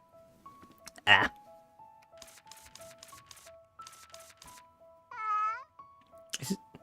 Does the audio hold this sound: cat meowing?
yes